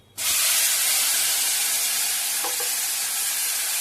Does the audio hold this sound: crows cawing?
no